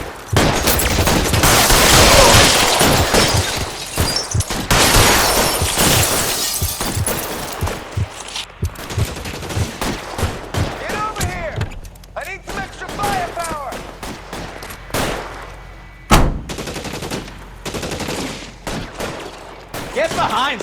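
Gunfire in the video game L.A. Noire, dense rapid shots with shattering glass and breaking debris, loud at first and then thinning into scattered bursts, with voices shouting over it.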